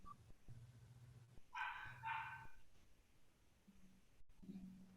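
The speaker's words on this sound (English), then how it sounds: "That was a dog bark." A dog barks twice in quick succession, faint and somewhat distant, over a low background hum with a few soft thumps.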